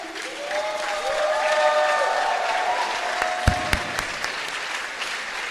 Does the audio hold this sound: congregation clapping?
yes